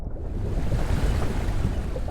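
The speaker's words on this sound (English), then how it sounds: "It washes over the ice, which melts rapidly, sending out a torrent of water and a huge cloud of steam." A rushing torrent of water from rapidly melting ice in Zork II, a dense, loud, steady wash of low roaring noise that holds throughout the short burst.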